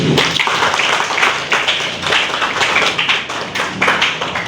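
A classroom group claps for presenting students after their project discussion, with dense, loud, steady applause filling the space.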